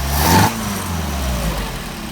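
An engine with Solex 44PHH carburetors settles to a steady idle around 700 rpm after a brief throttle blip, a low, even rumble heard up close with no other sounds.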